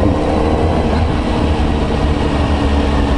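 Kawasaki Z900RS motorcycle fitted with a K-Factory muffler, its exhaust running steadily and loud with a deep low rumble throughout, close by and without talk.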